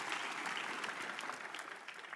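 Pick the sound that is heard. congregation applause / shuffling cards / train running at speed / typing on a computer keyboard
congregation applause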